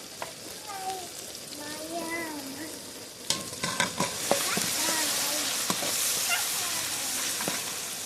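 Tomatoes and turmeric fry in a pan while a utensil stirs them, giving a steady sizzle. Sharper scraping clicks grow more frequent in the second half.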